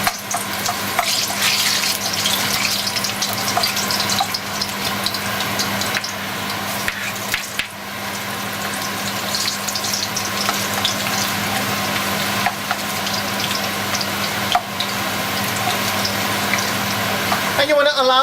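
Indonesian bay leaves, galangal root and shrimp-paste aromatics for a Javanese hot sauce sizzle steadily in hot oil, a loud, dense, continuous crackle with occasional stirring scrapes and a brief voice partway through.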